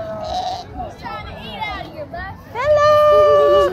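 Sheep bleating in a rising, wavering series at an outdoor Halloween trunk-or-treat, loud and close, with children's voices and chatter mixed around the calls.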